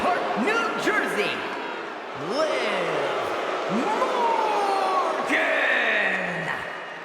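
A WWE 2K24 SmackDown arena crowd roars steadily through the whole stretch as a loud, dense wash. Sharp slams and shouted calls cut in over it, and a commentator's voice speaks in the foreground.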